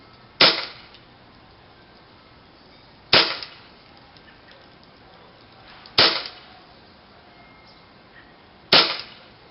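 Four sharp, loud shots from a Tokyo Marui airsoft gas gun fitted with a velocity reducer, spaced roughly three seconds apart, each a crisp snap with a short decay over quiet background.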